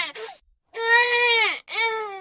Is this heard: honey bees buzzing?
no